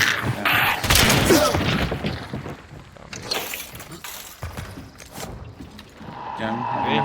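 Distant bursts of gunfire in a video game, with rattling volleys and booms rising and falling amid mechanical clatter.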